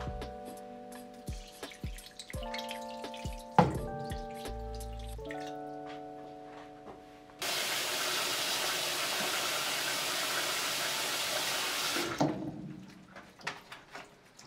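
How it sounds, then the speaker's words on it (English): A steady rush of water and vinegar pours into a yarn-dyeing pan for several seconds, loud and close, following some clattering, dripping and hum. "And I'm going to pour that into the pans as well."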